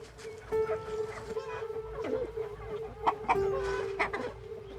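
Chickens clucking in rural Kenya in irregular bursts over a steady engine-like hum, with an occasional sharper squawk rising above the flock.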